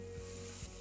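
Onions soften in a hot pan with a pinch of cinnamon stirred in, giving a steady close sizzle and two brief scraping strokes of the spoon, with no voices.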